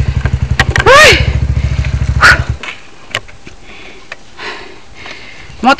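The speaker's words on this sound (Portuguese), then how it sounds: "Moto falhou." Heavy motorcycle on a steep mountain road, its engine chugging in rapid uneven pulses before cutting out, followed by quieter clanks and a dog barking and sniffing nearby.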